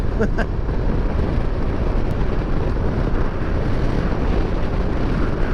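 Wind rushing past a motorcycle fairing while riding, a loud, constant low roar of buffeting air with steady engine drone beneath it and no break throughout.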